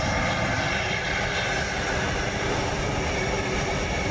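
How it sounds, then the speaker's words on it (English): The right engine of a MiG-29 jet fighter starts up in the DCS flight simulator game, producing a loud, steady, dense turbine roar and whine that fills the whole stretch without pause and with no talking. "And here comes our right engine."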